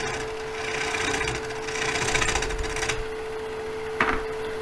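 A wood lathe spins a log blank at 885 rpm for bowl turning, holding a steady motor hum with a rushing whir, then a sharp knock near the end.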